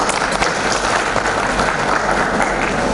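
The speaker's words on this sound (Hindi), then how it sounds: "उसके लिए एक बार तालियां फिर से बनती है।" A seminar audience in a university hall gives loud, sustained applause, a thick, continuous wash of many hands clapping with no speech over it.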